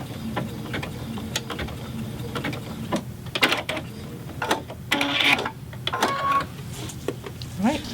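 Serger stitching a fabric mask strap, a rapid mechanical chatter with clicks and rattles running in short bursts, with a voice talking over it close by.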